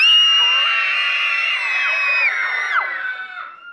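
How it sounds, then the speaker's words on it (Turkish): Several schoolchildren scream together on cue: loud, sustained high-pitched shrieks with sliding pitch that fade out toward the end. "Çığlık atıyorsun işte."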